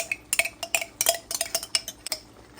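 Kielbasa and cabbage stirred in a pan with Dijon mustard, a utensil scraping and clinking against the metal in quick, uneven strokes, close and clear with no talking.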